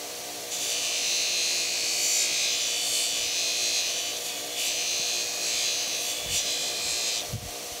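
A Scotch-Brite wheel deburring a steel gear segment for a Monarch 10EE lathe gives a steady, loud abrasive hiss that runs almost without a break for several seconds, with a few soft knocks near the end.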